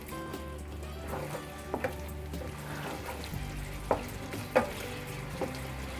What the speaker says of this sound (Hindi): और इसको अच्छे से ग्रेवी के साथ आप मिक्स कर देंगे